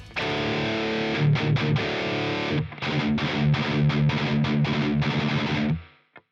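Heavily distorted metal electric guitar played through a Line 6 Helix with a Cali V30 cabinet, loud chugging palm-muted riffs with choppy rhythmic stops, then ringing out and fading at the end, with no talk.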